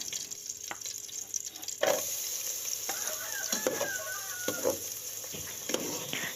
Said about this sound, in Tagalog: Maglagay na tayo guys ng hiniwang sibuyas